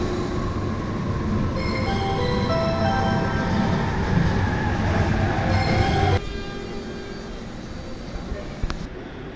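A Narita Express train in its old livery rumbles along and slows at a platform, with a steady mechanical roar and brief high tones, then drops to a quieter idle.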